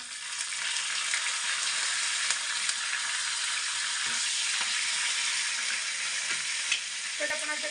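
Dense, steady crackling sizzle of curry leaves frying in hot oil with browned cumin seeds for a dahi tadka, a few stirring clicks on top and no talk.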